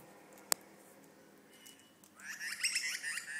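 A cockatoo parrot squawks at feeding time, giving a burst of close, harsh, rapid calls in the second half after a sharp click and a quiet stretch.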